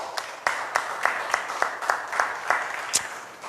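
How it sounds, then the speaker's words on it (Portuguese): Rhythmic hand clapping in a church during a Sunday evening worship service, a steady run of about a dozen sharp claps at moderate loudness, with a faint voice underneath. "Uma salva de palmas para o Senhor Jesus."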